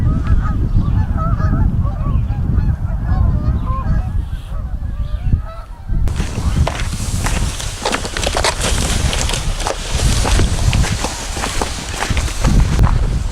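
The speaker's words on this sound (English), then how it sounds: "Some of the Canada geese are getting into the water" Canada geese honk repeatedly on a winter bay, with scattered calls over wind noise in the first half, followed by a louder, wind-buffeted stretch of rustling and thumping.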